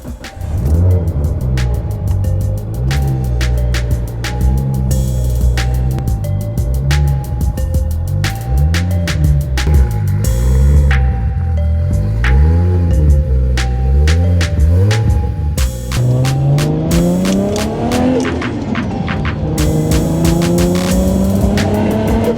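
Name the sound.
Nissan Skyline RB engine started and running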